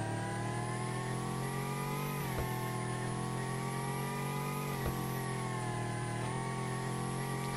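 A Porsche racing in the Roblox game Car Dealership Tycoon: a loud, sustained engine whine that holds high and steady, with brief dips at gear shifts, and no talking.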